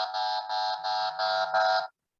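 Five loud buzzer or horn blasts in quick succession, each about a third of a second with short gaps, harsh and nasal, alone with no talk.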